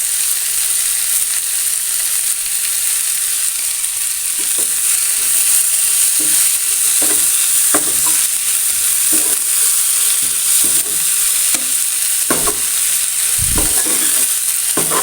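Broad bean thoran frying in a pan is stirred steadily; a constant loud sizzle runs throughout while repeated spoon scrapes and knocks punctuate it, with no talking.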